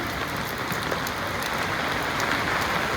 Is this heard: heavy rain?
yes